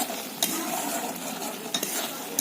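Snail curry stirred and fried in a pan until dry, with continuous sizzling and scraping and occasional sharp clicks of the utensil against the pan, close and steady.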